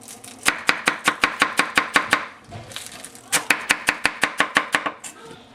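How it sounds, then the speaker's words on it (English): Rapid, even rhythm of a Richmond Kohetsu 210 mm gyuto knife rock-chopping a bunch of scallions on a board, two sharp bursts of close taps separated by a short pause. "We'll take some scallions, bunch them up, and let's rock them out."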